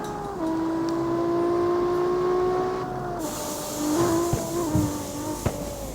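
A street car in the CarX Street racing game accelerates hard, its engine holding a steady, rising drone near and loud, then shifting gears with brief tonal drops and a few sharp knocks toward the end; no talking.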